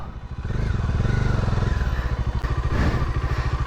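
A Bajaj Dominar 400 motorcycle engine chugs steadily nearby with a rapid, pulsing rhythm that rises and surges while off-roading, with occasional rattles as it rides over rough ground.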